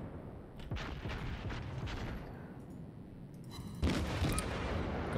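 Warship guns fire in a naval battle in World of Warships, heavy booming salvos with a rumbling tail, one big blast near the start and another later, over steady game ambience.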